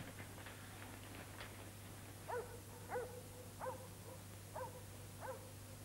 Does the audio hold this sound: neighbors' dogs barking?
yes